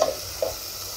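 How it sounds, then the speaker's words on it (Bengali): Potatoes and cauliflower fry in oil in a pan, with a steady low sizzle and two brief stirring scrapes near the start, close by with no talking. "এখানে আলু ফুলকপি ভাজা হচ্ছে"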